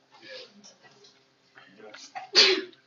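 A single loud sneeze bursts out near the end, after about two seconds of quiet murmuring voices in a classroom.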